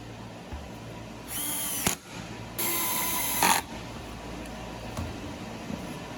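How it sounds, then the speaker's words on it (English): A power drill drives countersunk screws into a wooden bar stool, with two loud whirring bursts of a second or so each, separated by a short pause, over a quiet background hum. "we can go ahead and countersink 4 screws in here"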